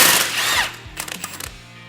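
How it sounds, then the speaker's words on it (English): A power tool takes the nut off the lower ball joint bolt on a Can-Am Maverick 1000R, starting with a loud sustained whir that breaks into rapid rattling impact bursts before stopping. "we'll go ahead and take the nut off of our bolt down here for our lower ball joint"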